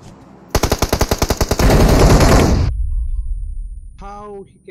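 Automatic gunfire in the mobile battle royale game PUBG Mobile: a rapid burst of about ten loud, evenly spaced shots blurs into a sustained roar of fire, then cuts off, followed by a brief electronic tone.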